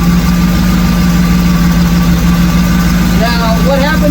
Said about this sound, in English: I'm going to back this idle speed down a bit, where I like it.